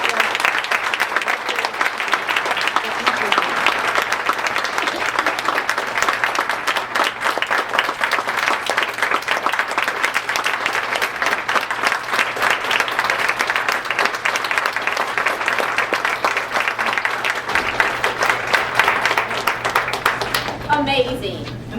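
A large audience claps in sustained, even applause for over twenty seconds, a dense continuous roar of hands that stays loud and steady before thinning slightly near the end.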